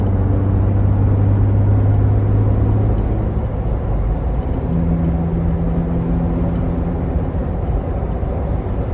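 A Jeep Wrangler JK with no muffler and a cold air intake cruising around 55 mph at about 1600 RPM, a loud, steady, deep engine drone with a shifting tonal hum, no talk.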